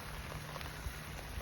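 Rain patters steadily on a tarp during a wild camp in torrential wind and rain, a dense close hiss of drops with a few louder taps, no voices.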